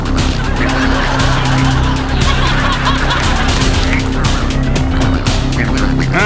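Ducks quacking and chattering close by, a dense run of nasal honks and squawks repeating steadily over a low background rumble.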